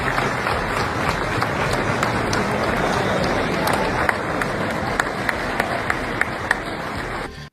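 Guests at the World Economic Forum giving Trump a standing ovation: dense, sustained applause from a large crowd filling the room at steady loudness, with a few sharper claps standing out near the end.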